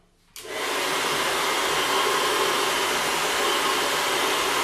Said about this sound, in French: les lutins du Père Noël vous empruntent votre sèche-cheveux pour sécher les cadeaux